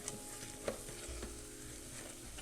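Butter being stirred into a Chicken Kiev mixture, giving a soft, steady scraping stir with a faint sizzle underneath, quiet and close, with no voices.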